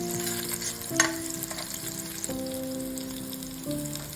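Onions sautéing in oil for a dried-fish curry sizzle steadily at close range while a soft melody of held notes plays in the background, with an occasional stirring clink.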